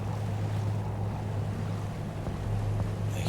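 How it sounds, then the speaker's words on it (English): A ship engine slowing down in the ship simulator game Seafarer The Ship Sim, a steady low droning hum under wind and water noise, constant and fairly close throughout. "I hear that engine slowing down a little bit"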